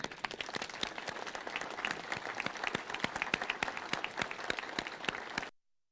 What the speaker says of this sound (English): Let us stand up and really clap for them.